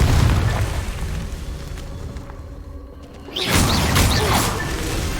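A Confringo fire-blast spell in the Hogwarts Legacy video game erupts as a sudden loud boom after a quieter stretch, followed by crackling, rumbling burst noise that stays strong to the end.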